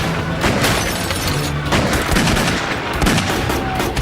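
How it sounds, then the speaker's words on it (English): A police shootout with a furious barrage of bullets, dense overlapping gunshots crackling continuously and loudly for the whole stretch. "In the furious barrage of bullets"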